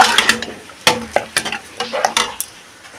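Spices with jackfruit seeds are stirred in a cooking pan: close, loud, irregular clattering scrapes of a spatula against metal over a faint sizzle.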